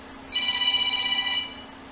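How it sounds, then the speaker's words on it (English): A telephone rings in a garage workshop with one bright, trilling electronic burst lasting about a second, then it stops, leaving quiet room tone. "Phone is ringing."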